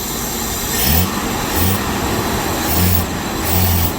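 A 1976 Jaguar XJ6 Series 2 engine runs rough and starved of fuel on a gravity tank without a pump, its idle surging and dipping in uneven swells, close and loud.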